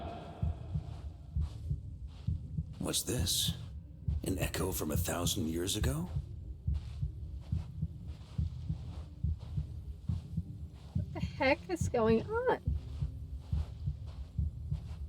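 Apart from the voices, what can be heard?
heartbeat sound effect in video game Genshin Impact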